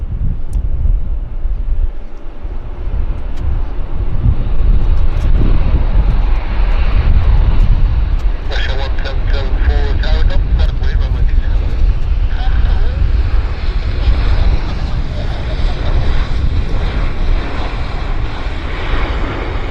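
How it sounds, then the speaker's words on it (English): Al Napon airliner engines roar loud and continuous at departure from Vancouver Airport, with a rising whine in the middle, wind buffeting the microphone and voices talking over it. "You can hear the Al Napon engines."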